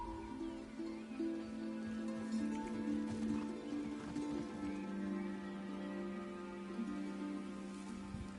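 A horse whinnies and neighs in the video game The Last of Us Part II, its call rising over a steady game soundscape with no voices.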